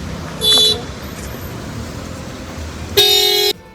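Two loud horn honks from a bus pulling up at a stop, a short toot followed by a longer blast near the end, over a low background of traffic.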